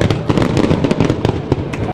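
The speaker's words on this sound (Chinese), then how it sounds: "五光十色的烟火在夜空中绽放光芒" Fireworks burst over the night sky at the opening show at Fisherman's Wharf in Tamsui, where 1,400 shells were fired. Dense, rapid volleys of loud crackling bangs overlap continuously.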